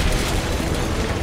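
An explosion in the video game Call of Duty: Modern Warfare 3 gives a dense, sustained boom that fills the whole stretch with rumbling blast noise. No one speaks over it.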